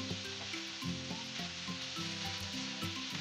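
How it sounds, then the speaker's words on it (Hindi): Chicken pieces fry with garlic in a pan over a medium flame, giving a steady close sizzle with faint stirring scrapes throughout, and no one speaking. "हम इसे अच्छी तरह से गार्लिक के साथ फ्राई करेंगे"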